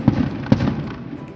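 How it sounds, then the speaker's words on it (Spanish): Fireworks bursting at a patron saint festival near a home: two sharp booms about half a second apart, followed by a rumbling, crackling tail, fairly close and loud. "perdón por los cohetes, pero hay una fiesta patronal aquí donde vivo"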